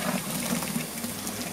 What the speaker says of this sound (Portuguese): Vamos colocar mais 10 litros de água.